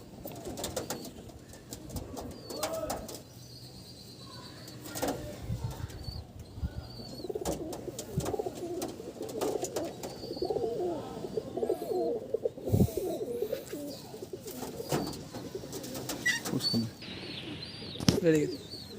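Low rolling coos from fancy pigeons in Howrah mix with bursts of flapping wings and scattered chirps, with someone speaking over them throughout.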